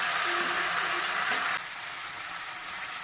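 Grated ginger and chillies are stirred together in a frying pan, a close steady sizzle with soft scraping that drops slightly in loudness partway through.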